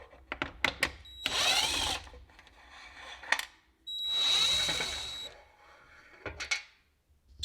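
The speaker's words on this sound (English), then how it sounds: "There are a couple of little I believe they're 1/2 inch or 3/4 inch Kreg screws that go in from the bottom" A power drill whirs in short bursts of about a second each while backing Kreg screws out from the underside of a workbench top, with clicks and clunks of handling between the bursts.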